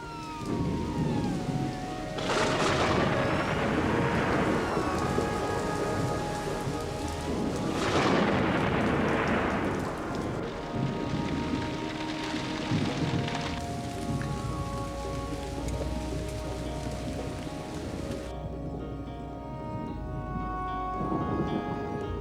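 A violent Tucson, Arizona thunderstorm: steady heavy rain pours throughout while two loud, close thunderclaps crash and roll, then a lighter rumble follows as the downpour continues alone.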